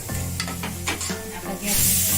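Sliced onion and grated coconut dry-roasting in a pan for a Malvani potato curry masala, a steady close sizzle with scraping stir strokes, rising to a brighter hiss near the end, no voices.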